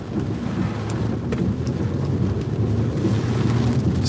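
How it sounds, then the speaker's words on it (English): A Michigan thunderstorm brings steady rain and a deep rumbling roar during a storm chase, with continuous noise from rain and wind buffeting the microphone and no voices. "Storm's catching us."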